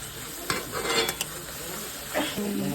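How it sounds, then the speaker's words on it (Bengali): Spice paste for a spicy Bombay duck (lote fish) curry cooking down in a pan, with a low sizzle under a few sharp scrapes and clinks of a spatula stirring against the metal. "মশলাটা কিন্তু কষিয়ে নেওয়া হচ্ছে"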